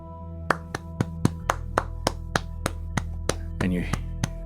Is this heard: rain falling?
no